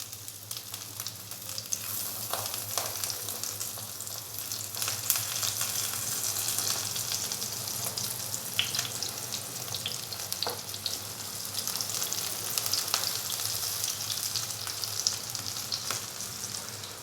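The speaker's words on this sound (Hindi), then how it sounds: "प्याज के रिंग्स को हमने हल्का सा फ्राई कर लिया 2 से 3 मिनट के लिए" Onion rings fry in a pan of hot oil with a steady, even sizzle and occasional small crackles and pops, heard close up with no talking.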